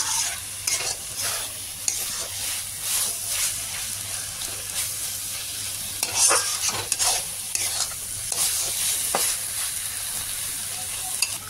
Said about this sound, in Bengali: আর একটু নাড়ি চাড়িয়ে নেবো, কেন এটা ফাইনাল টাচ।